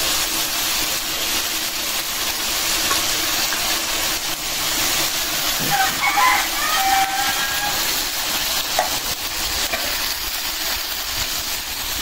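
Local koi fish fry in hot oil in a village kitchen, giving off a loud, constant hiss and sizzle with faint pops and a few brief background sounds along the way.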